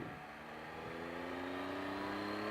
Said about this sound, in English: it's got a nice engine rumble underneath your seat